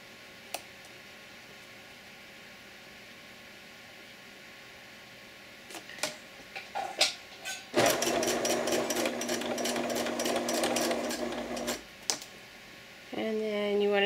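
A domestic sewing machine runs in a steady rapid burst of stitching through bib apron fabric, stopping and starting briefly, with quiet handling noises before and a short whirring restart at the end.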